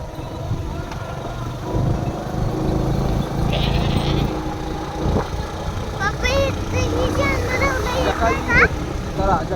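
Several goats, a red one and a brown one among them, bleat in wavering calls out in the hills over a running engine hum, with people talking nearby throughout.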